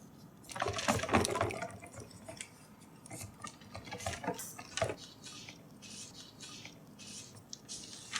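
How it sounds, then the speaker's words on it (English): Soapy water sloshes and splashes as a stick blender is rinsed clean after soap making, with bursts of running water and clattering mid-clip, fairly close and moderately quiet, with no talking. "Here I'm valiantly trying to clean off my stick blender again."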